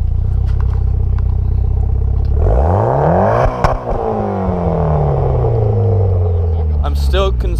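A Mitsubishi Lancer Evolution X MR with a COBB Stage 3 kit idles with a deep, loud exhaust burble, then revs up sharply and falls back, with a brief clatter mid-rev.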